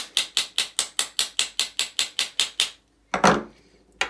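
A socket is tapped with a hammer to drive a bearing home during a bait boat motor repair: about fourteen crisp, evenly spaced metallic knocks, close and loud, then a pause and a couple of heavier, clattering hits.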